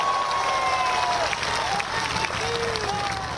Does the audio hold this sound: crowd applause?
yes